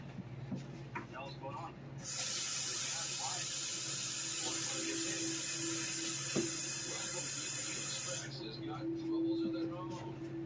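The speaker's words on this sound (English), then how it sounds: "I'm going to get some water in this bowl" A faucet gushes water into a bowl with a loud, steady hiss for several seconds, then cuts off, with quiet talking before and after.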